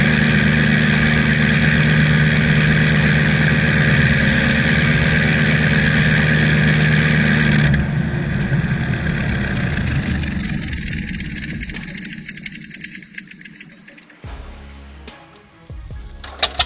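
A World War I-era aviation engine of the kind that powered the Nieuport 17 and Sopwith Camel roars loudly and steadily for about eight seconds, then winds down, sputtering and fading until it dies out.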